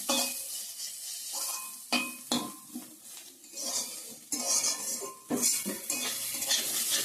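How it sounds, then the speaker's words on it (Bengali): Radish greens being stir-fried in a pan, with steady sizzling and repeated scraping and clinks of a spatula against the metal throughout, close and fairly loud, no talking. "এই দেখুন মূলা শাক ভাজাটা আমার একদম ঝরঝরে হয়ে গেছে নামিয়ে নেব শুকনো শুকনো"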